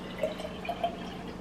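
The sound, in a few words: pouring lemon water into tea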